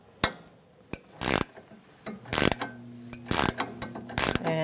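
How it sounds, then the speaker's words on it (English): Ratcheting wrench clicks in short bursts as a strut nut is loosened on a Ford Focus front strut assembly, close and fairly quiet with pauses between strokes. "I'm going to use a 5mm Allen wrench and put it right up against this strut. And I'm going to loosen this nut"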